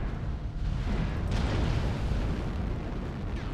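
An AC-20 autocannon hit lands in the video game MechWarrior Online: a loud, dense blast of booming impact rumble that holds steady for several seconds, with a sharper burst partway through.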